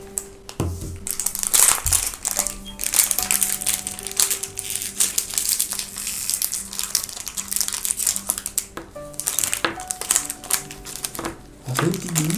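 Crinkly plastic wrapper of a small Japanese snack being torn and opened, close crackling and rustling bursts that pause and resume, with a faint low background hum.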